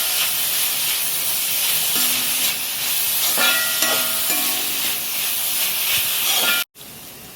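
Green chillies and onion sauté in a hot pan for a mussel roast, giving a steady loud hiss with faint clinks partway through. It cuts out abruptly near the end, then resumes.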